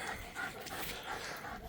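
A Doberman pinscher dog pants steadily and close by, quick rhythmic breaths continuing through the whole stretch with no one talking.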